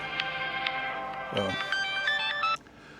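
A mobile phone ringtone chimes close by in a bright, repeating melody, then cuts off abruptly near the end, with a little talk in the background.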